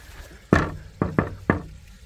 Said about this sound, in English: Shall I knock first?